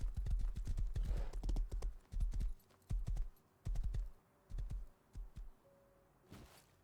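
A horse in the video game Rust clip-clops in short, distinct bursts of hoofbeats, fairly close, with quiet pauses between them and a faint whinny-like sound at the end.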